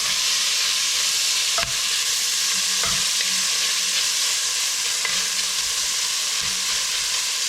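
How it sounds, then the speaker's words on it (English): Sausage browns in a pot for red beans and rice with a steady, loud sizzle, while a spoon stirs it with a few distinct scraping knocks against the pot. No voices. "So I'm gonna give it just a little stir."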